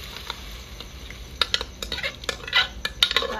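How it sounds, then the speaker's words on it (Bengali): Mixed whole dal of green moong, black kolai and chickpeas tipped into a hot pot, a quick burst of splashing sizzle with clattering scrapes of a spoon against metal, close by. "বন্ধুরা ডালটা ঢেলে দেবো।"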